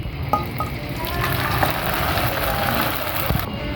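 Seri pitha rice cakes frying in hot oil, a steady close crackling sizzle with a few sharp pops, running without pause throughout.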